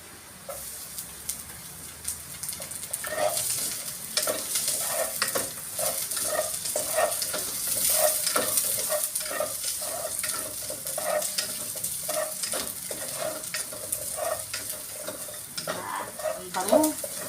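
Ginger, then garlic, sautéing in a pan for chicken tinola: a continuous sizzle broken by repeated, fairly regular spatula scrapes and taps, close and moderately loud.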